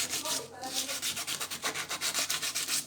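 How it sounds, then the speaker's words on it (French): Sandpaper of 400 grit scrubs a copper plumbing pipe in quick rhythmic back-and-forth strokes, close and fairly loud, before soft soldering. "on va poncer quand même pour que la colle adhère bien"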